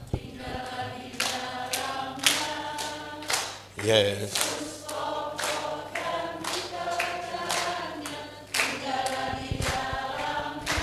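Rhythmic hand clapping from a group keeps a steady beat under singing and talk, with several voices joining in throughout.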